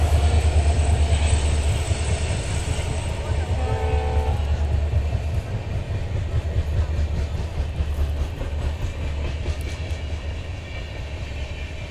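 A train at a railway station at night gives a steady loud rumble with a brief horn-like tone partway through, with faint voices mixed in.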